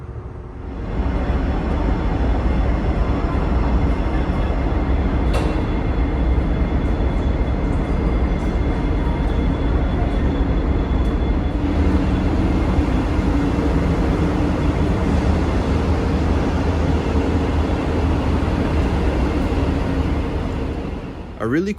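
An Amtrak Superliner train at Chicago Union Station gives a steady, loud rumble and hum throughout, with a brief sharp clank partway through.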